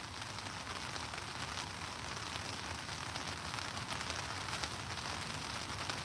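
Steady rain patters continuously outdoors during a walk, a dense even hiss of drops with no pauses and no voices.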